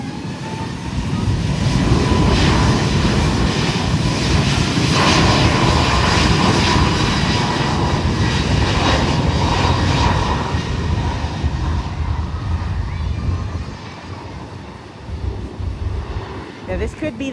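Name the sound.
Airbus A321 LR airliner taking off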